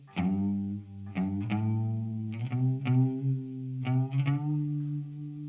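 Plucked guitar notes through a chorus pedal ring out with a wavering chorus modulation, giving a bouncy, rubbery shimmer as each note sustains, no voices present.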